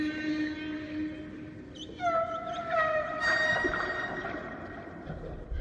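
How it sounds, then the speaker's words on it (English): A whale-call sound effect of long, sliding, moaning tones rises and bends over a steady hiss, loud and close, with no talking. "Dadgum space whales."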